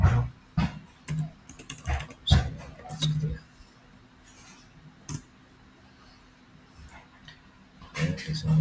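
Clicks and taps on a computer keyboard during manual data entry, bursts of keystrokes with pauses between, close and moderately loud, with a voice speaking in places.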